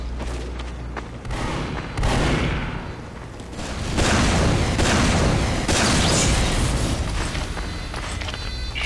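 Rockets firing in Team Fortress 2, a dense roar of booming launches and blasts that swells in waves and stays loud and continuous with no break.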